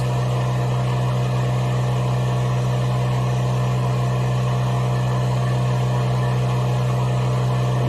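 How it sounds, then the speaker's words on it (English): A woodshop dust collector's loud, constant motor drone with a strong low hum and a broad whooshing airflow, unchanging from start to finish, during shave brush turning. "For this part, I am going to turn on the dust collector, so excuse the noise."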